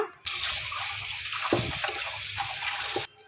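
Tap water runs steadily into a vessel as fish is rinsed for a fish curry, with a few splashes and handling knocks breaking through the constant gush before the flow stops.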